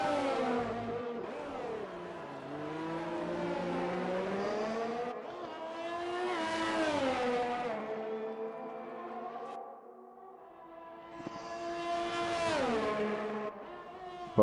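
A Formula 1 car in the F1 2020 racing game, on the Netherlands round, screams through its gears with rising and falling engine pitch and sharp revs on shifts, loud and continuous, a brief dip before another climbing pull.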